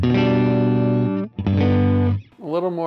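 Electric guitar with a P90 pickup in the neck position, played through effects with distortion: two sustained, thick chords ringing loudly, then a short bent note at the end.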